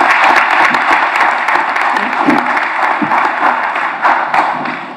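Audience applause at an evening college commencement ceremony in May 2022, a steady dense patter of many hands clapping throughout, fairly loud and continuous.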